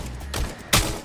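Gunfire in Contractors: Showdown: two sharp, loud shots about half a second apart, close by, over low game ambience, with no speech.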